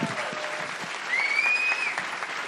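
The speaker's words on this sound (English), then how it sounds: "Can we have a massive round of applause for all the guests tonight?" A live comedy audience at the Edinburgh Fringe gives a steady round of applause for the guests, a continuous dense clapping texture that swells slightly midway, with a brief high whistle cutting through.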